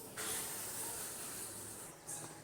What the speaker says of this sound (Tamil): நல்லா கொதிக்கட்டும், நல்லா வேகட்டும்.